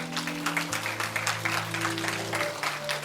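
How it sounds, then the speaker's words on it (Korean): A church congregation claps during a Sunday service, a soft, steady patter of many hands heard at some distance beneath held tones from an organ or keyboard. "우리 앞으로 모실 때 크게 박수해 주시죠."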